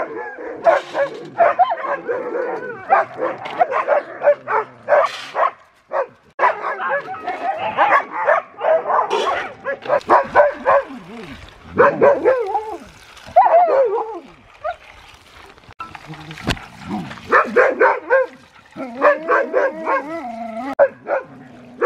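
Dogs bark and whimper in excited bursts, with yips mixed in, close by; a person talks over the commotion and water splashes briefly.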